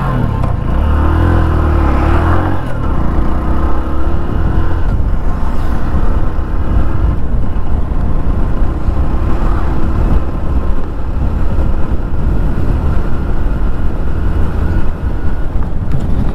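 A 2025 TVS Sport 110 motorcycle is ridden on the road, its engine a continuous drone under heavy wind buffeting against the microphone, with no voices.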